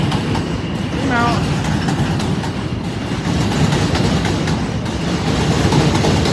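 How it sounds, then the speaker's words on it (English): A train rolls along the tracks with a loud, continuous rumble and rattle of the carriages, heard from close by, and a brief squeal rises partway through. "Got the train again."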